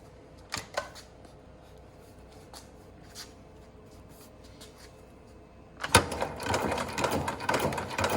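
A SEWPRO 733-3020 sewing machine with an air clamp stitches thick rope; a few sharp mechanical clicks and a quiet hum lead into a louder, busy burst of clattering stitching.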